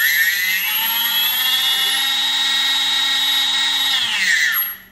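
Small electric model aircraft motor, an F1S E36 free-flight model on a timer, whining at a high, steady pitch from close by, then winding down sharply at the end of the run.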